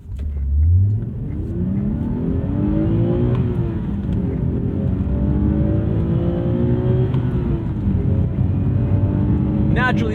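The naturally aspirated six-cylinder of a 2011 Infiniti IPL G Coupe pulls hard, its pitch climbing through the gears in long rising sweeps, loud and close, with a voice speaking over it.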